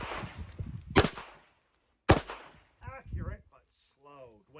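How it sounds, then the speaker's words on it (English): Two sharp pistol shots, about a second apart, ring out at a red dot and appendix-carry shooting class, with someone talking between and after them. "So when you shoot multiple rounds"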